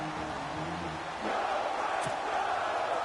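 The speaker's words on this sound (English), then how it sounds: "the crowd getting into it as we come up on a big third down" A stadium crowd in an American football video game on PS4 swells into a loud, sustained roar of cheering after a brief stretch of quieter murmur, with a voice audible at the start.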